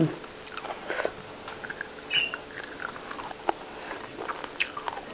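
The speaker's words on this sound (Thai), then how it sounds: "คนเป็นคนมากินกระดูกไก่ค่ะพี่น้อง" Close, crunchy gnawing and biting on small steamed herbal chicken bones, with irregular cracks and wet chewing sounds in a quiet room.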